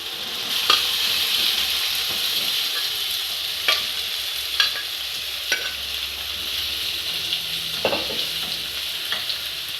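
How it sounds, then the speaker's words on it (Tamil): Chicken gets stirred into frying onions and curry leaves, and the pan sizzles steadily with bright crackle. Several distinct spoon scrapes and knocks ring out across the pan, close and clear, with no talking. "லைட்டாக கிளறிட்டு நம்மளோட வேக வச்சுருக்கிற சிக்கனை இதில் ஆட் பண்ணிக்கலாம்."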